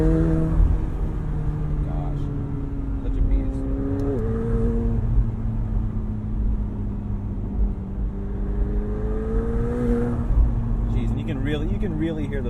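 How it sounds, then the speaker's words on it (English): A 2020 McLaren 720S Spider convertible drives with its engine droning steadily and its pitch rising and falling through gear changes, turbo whooshes mixed in, loud and close throughout while someone talks over it. "You can really hear those turbo noises."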